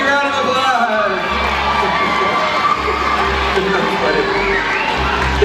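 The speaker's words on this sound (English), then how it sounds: "There you go, big round of applause!" A lecture audience with many children cheers and shouts after a dinosaur talk, a loud, steady crowd roar with whoops and young voices that stays dense from start to finish.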